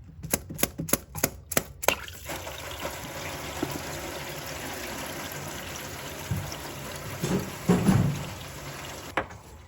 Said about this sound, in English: Take the rubber mallet here and see if we can just knock it off.